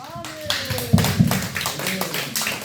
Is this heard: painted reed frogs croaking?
no